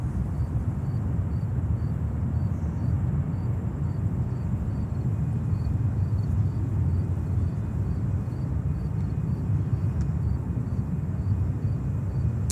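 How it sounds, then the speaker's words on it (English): Azerbaijan Airlines Airbus A340-600 jet at JFK airport in New York, a steady, loud low engine rumble that holds evenly throughout with no voices. "Azerbaijan 340-600. What a fantastic livery."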